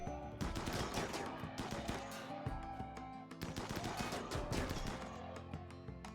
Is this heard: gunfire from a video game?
yes